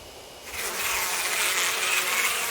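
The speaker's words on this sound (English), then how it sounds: "You have been driven away by bees." A swarm of bees drones in the Death Mark game, a steady buzzing hum that swells in just after the start and keeps going, close and unbroken.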